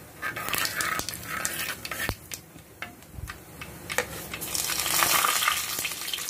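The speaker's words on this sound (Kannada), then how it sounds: "ಸಾಸಿವೆ ಸಿಡಿತಾ ಇದೆ" Mustard seeds spluttering and popping in hot oil in a clay pot during tempering, a dense, close crackle of sharp pops and sizzle that builds louder toward the end, with no talking.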